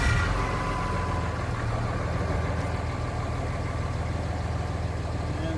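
A Cummins diesel engine swapped into a Ford truck, a 6.0 Fummins, cranking then running: a steady, loud low rumble and diesel clatter close up throughout, with no talk.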